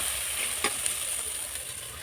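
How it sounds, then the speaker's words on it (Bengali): Spice paste (masala) fries in a covered pan with a soft, steady sizzling hiss and one brief clink partway through. "আর মশলাটা আমি ঢাকা দিয়ে দিয়ে কষিয়ে নেব।"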